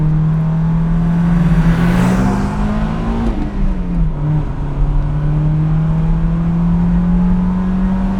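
A Nissan Silvia S15 Varietta engine revs hard and near, its droning note rising then dipping as it hits the 7,200 RPM rev limiter, then holding a steady loud tone.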